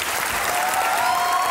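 A studio audience breaks into dense, loud applause to welcome Javed Miandad, the famous Pakistani cricket batsman, on a TV interview show; the clapping is brief, steady and close, with no voices over it.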